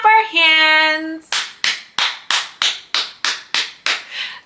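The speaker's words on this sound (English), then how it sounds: "Now let's clap our hands" Hand clapping during a baby's sounds-and-signs language play session: after a brief sung or tonal voice, about nine sharp, evenly spaced claps ring out close and clear, each with a quick decay.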